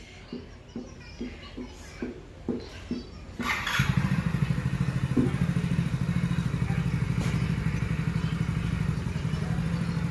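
A motorcycle ridden by a learner: a series of thumping start attempts, then the engine catches and settles into a steady, close, throbbing idle with slight revving.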